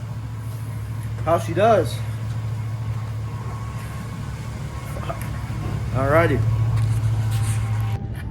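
A 2002 Chevy Silverado pickup with a newly replaced 4L60E transmission runs at a steady low hum on a test drive, a constant engine drone under the cab while someone speaks briefly a couple of times.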